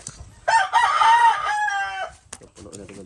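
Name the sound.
rooster crowing among chickens being fed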